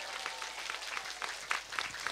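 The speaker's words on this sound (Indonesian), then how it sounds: "Oh ya tepuk tangan dulu ndak apa-apa." A gathering at a live Islamic religious talk in Purworejo breaks into clapping, fairly faint and scattered, with individual claps audible in a loose, uneven patter.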